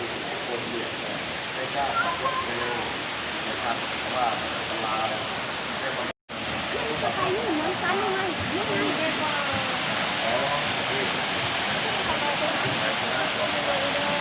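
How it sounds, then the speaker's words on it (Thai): Water from a waterfall at a cave temple in Sakon Nakhon pours in a steady, dense rush, near and continuous with one brief cut partway through, and voices seem to murmur faintly beneath the roar. "น้ำตกเลยนะ"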